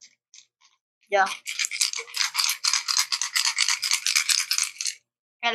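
A large surface fishing lure shaken so its internal ball rattles, a dense rapid clicking burst lasting several seconds after a few brief taps, close and fairly loud, with a short voice at the start.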